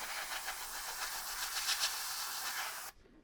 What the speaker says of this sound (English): just some cool dry air from the airbrush